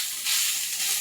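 Grated coconut sizzles in a pan with green cardamom and a piece of cinnamon, a soft, steady frying hiss heard up close with no voices.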